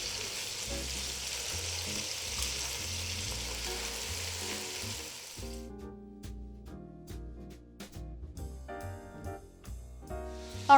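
Chicken legs and thighs fry in a skillet with a steady, dense sizzle that thins out midway, leaving scattered pops and crackles alongside occasional clinks.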